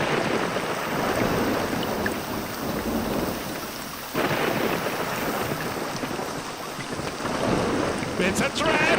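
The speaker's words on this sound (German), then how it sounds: "Also das Donnern nervt gewaltig, ja." Thunder with heavy rain in the horror video game Hellseed, a continuous loud rumbling downpour with rolling thunder swelling throughout, dense and close.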